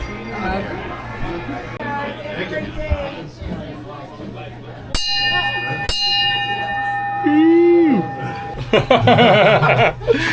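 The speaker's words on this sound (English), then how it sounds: "still ringing the bell" A bell rings with bright, sustained tones that linger over background chatter and laughter, struck again a second later.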